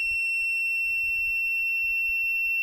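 A buzzer in a Cretile robotics kit sounds a continuous, steady high-pitched electronic tone that holds unbroken, with faint low thumps of handling underneath.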